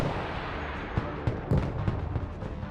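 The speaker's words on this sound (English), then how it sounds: "Artillery available, sir. Providing direct fire." Artillery fire in the Broken Arrow video game, several heavy thumping blasts spaced about half a second apart over a steady rumbling battlefield bed, close and loud.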